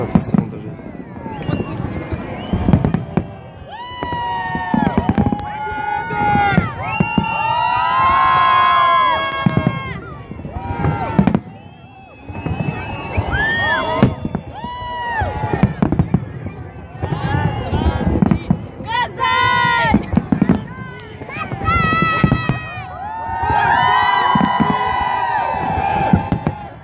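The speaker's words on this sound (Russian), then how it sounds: "Тут салют. Да, вот тут салют тоже есть." Fireworks salute for Victory Day in Kazan, with repeated booms and crackles over a loud crowd cheering, shouting and chattering nearby.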